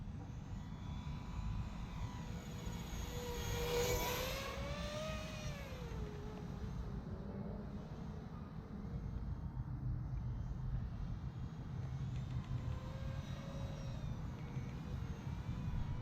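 A radio-controlled F-39 Gripen model jet flying on its maiden flight, its engine a steady whine heard from a distance, with a louder rising and falling pass around the fourth second.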